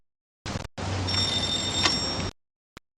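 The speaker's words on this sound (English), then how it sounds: "Come on, ring the bell." A doorbell rings, first with a brief buzz and then with a steady electric ring of about a second and a half. A faint click follows after it stops.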